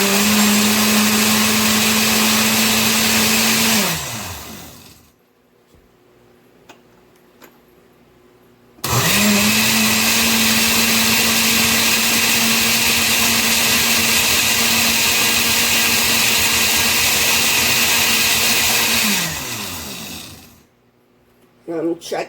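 A blender liquefying strawberries for a keto strawberry fluff: a loud, steady motor whine that runs for several seconds and winds down, stops briefly, then roars again for a longer stretch before slowing to a halt.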